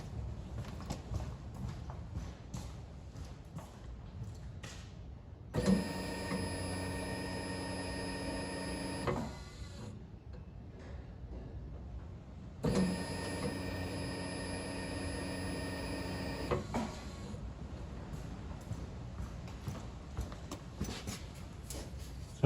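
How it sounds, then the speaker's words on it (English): Electric car fuel pump kicks in twice, each time a steady whine lasting about three to four seconds before cutting off, fairly clear over a quiet background hum. "you'll hear the fuel pump kick in at the same time"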